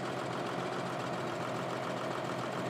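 Tractor engine idling in Farming Simulator 2013, a steady, even mechanical drone that holds constant and fairly loud throughout with no break.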